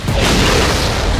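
A gunshot fired in the stealth video game Shadow Tactics: Blades of the Shogun, set at Osaka castle. It lands as a loud, booming blast that fills the whole clip, with no speech over it.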